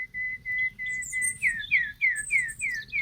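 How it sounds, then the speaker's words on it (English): Birds sing outdoors, loud and close: sustained thin whistles followed by a quick series of about six descending chirps in a steady rhythm over faint low background noise, with no talking. "these birds are loud."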